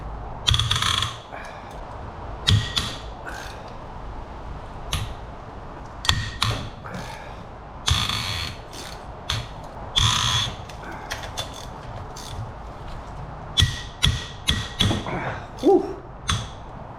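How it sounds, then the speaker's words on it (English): Tight head bolts being broken loose on a Kawasaki KFX400 ATV engine with a wrench: a series of sharp metallic cracks, clicks and ratcheting taps in irregular bursts, close by, with some grunting effort between them. "let's crack the head bolts"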